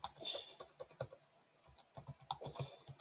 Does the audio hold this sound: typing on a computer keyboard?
yes